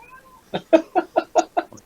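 A cat gives a quick run of six short, evenly spaced meows, loud and close, with no other sound around them.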